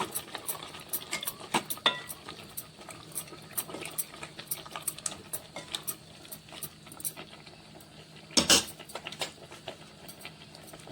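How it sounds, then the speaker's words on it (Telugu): A spoon stirs spinach dal curry in a pot, giving soft, irregular scraping and wet patter close by, with one louder clatter partway through and no talking. "వేసుకున్నాక కలుపుకోవాలి."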